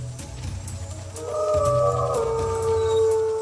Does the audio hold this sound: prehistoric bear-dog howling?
yes